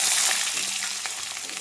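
Bay leaf and cumin seeds frying in hot oil for a biryani, giving a steady, close, bright sizzle with faint crackles and no talk.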